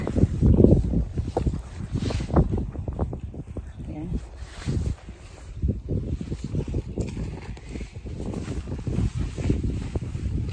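Gusty wind buffets the microphone outdoors on hot farmland in Japan in uneven rushes, with someone talking over it.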